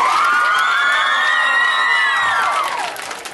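At an outdoor music festival in Puiesti, a crowd cheers and shouts for three tenors, loud whoops and high voices rising over applause, then fading slightly at the end.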